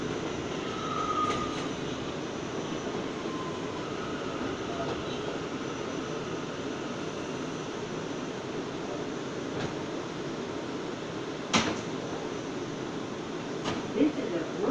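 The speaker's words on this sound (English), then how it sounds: "This is a Brooklyn-bound J local train." An R179 J local subway train bound for Brooklyn in New York rolls along with a steady, rumbling roar, occasional brief metallic squeals and clunks rising above the continuous noise.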